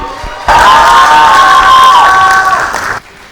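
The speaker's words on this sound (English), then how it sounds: "Ladies and gentlemen, huge round of applause" A large audience at a talk show taping in Jaipur bursts into loud, sustained applause and cheering with whoops and shouts for an arriving guest, holding steady for a few seconds before cutting off.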